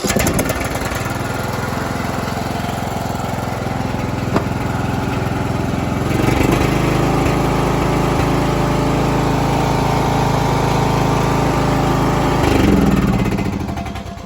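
Salvaged riding lawn mower engine running steadily and loudly up close, rising slightly in pitch partway through, with no talk.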